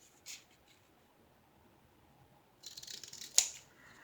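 Scissors cutting a diamond painting canvas, quiet and close: a soft snip early, then a burst of crisp cutting noise ending in one sharp clip, with near silence between.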